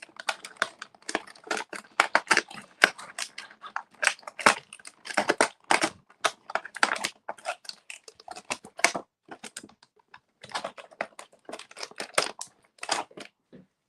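Plastic Marvel Legends retro Beast figure packaging being cut free from its cardboard backing card, a rapid series of close, crisp snipping and crinkling clicks in uneven bursts with brief pauses, no talking.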